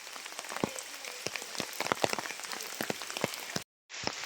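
Light rain falling at Vazhani Dam, a soft continuous patter with scattered distinct drops striking nearby surfaces, faint overall and briefly cutting out near the end.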